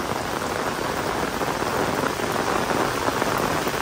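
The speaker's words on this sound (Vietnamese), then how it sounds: "Mẫu chú là trời mưa tầm tã luôn quý cô chú anh chị ơi" Torrential rain pours down outdoors at a graveside, a loud, dense, unbroken roar of water drumming on surfaces close by.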